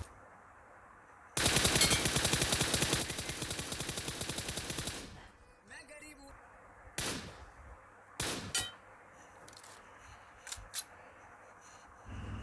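Rapid automatic gunfire in BGMI rings out as a loud sustained burst lasting several seconds, followed by a few scattered single shots and clatters at lower volume.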